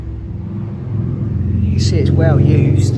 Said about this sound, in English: I've noticed quite a few bikes going past.